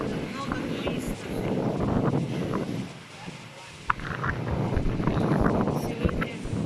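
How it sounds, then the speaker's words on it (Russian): Wind buffets the microphone at the sea on a blustery summer day while waves roll and wash in steadily, a loud continuous roar with a brief lull midway. "Сегодня ветер, вот какие волны, что творится на море."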